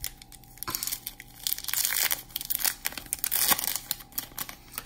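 Scissors cut into a foil 2020 BBM Hiroshima Toyo Carp baseball card pack, making close crinkling, crackling and tearing sounds in short irregular bursts.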